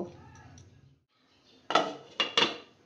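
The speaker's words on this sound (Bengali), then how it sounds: "এবার ঢাকা দিয়ে দেব।" A lid set onto a pot of bottle gourd soup on the stove gives three sharp metallic clanks in quick succession, close and fairly loud, after a quiet stretch with faint kitchen rustling.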